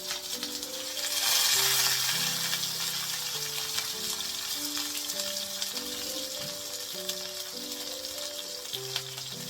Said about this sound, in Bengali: এবার একটা একটা করে পাতুরিগুলো তেলে ছেড়ে দেবো